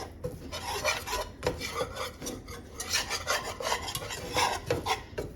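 A spoon works a flour and butter roux around a pan, producing rhythmic scraping and rubbing strokes, close and repeated in quick bursts for a few seconds.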